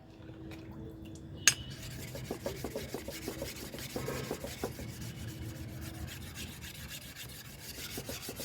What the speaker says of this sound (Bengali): এইভাবে ঘষে ঘষে পাথর দিয়ে এই পাথর দিয়ে একে ঘষে ঘষে একে পালিশ আনতে হবে